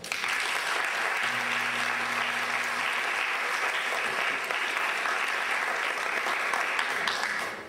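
A crowd at a school ceremony gives a loud, sustained round of applause, an even, unbroken wash of clapping that lasts the whole stretch, with a brief tonal hum underneath early on.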